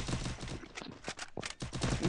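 Rapid gunfire in an online shooter game, dense bursts of shots crowding the whole clip with brief gaps, loud and continuous like automatic weapons fire.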